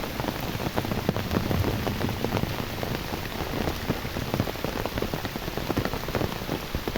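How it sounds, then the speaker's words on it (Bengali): Heavy rain pours steadily and densely, a continuous close roar of drops drumming on surfaces, with no pauses. "মুষলধারে বৃষ্টি হচ্ছে"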